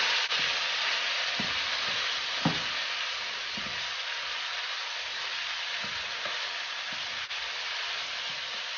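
A pot of grass-fed beef stew is stirred over heat, with a steady broadband sizzle running throughout and several soft scraping stirs of the spoon, one somewhat louder near the middle; no one speaks.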